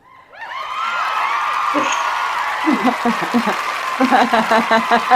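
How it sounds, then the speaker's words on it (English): Applause swells up from quiet into a loud crowd clapping, with whoops and scattered chuckles mixed in as it continues. "I can find the applause because it just says applause large."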